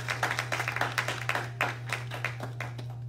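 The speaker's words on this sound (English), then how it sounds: "Come on and clap your hands if you can." Church congregation at a Sunday service clapping hands in a quick, steady rhythm, a series of distinct crisp claps at moderate distance over a constant low hum.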